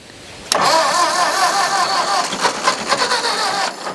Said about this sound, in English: And in fact, it did fire, Hank.